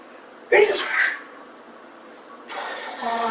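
A single loud sneeze bursts out about half a second in, during Killing Floor 2 gameplay, then fades into quieter game noise and faint background sound.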